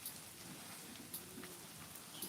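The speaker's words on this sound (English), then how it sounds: "Oh, here comes the rain." Steady rain falls and patters on a surface, a continuous soft hiss with scattered drip ticks, faint and even, no voices.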